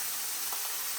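Burger meat sizzles steadily in a pan, a soft continuous hiss of frying with no voices over it.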